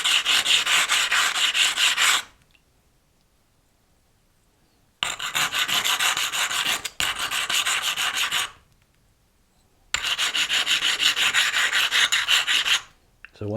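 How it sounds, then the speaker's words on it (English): Edges of cut stained-glass pieces ground smooth on a grinding stone, heard as three loud, close bursts of harsh rasping, each about two seconds long, separated by near-silent pauses. "Let's clean all the pieces as well as grind them down a little bit too, just so they aren't sharp right on the ends and the edges."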